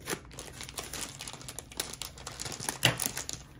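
Candy packet from a British sweets box crinkles and crackles near the microphone as scissors snip off its corner, a busy run of close plastic rustling with a brief louder crunch toward the end.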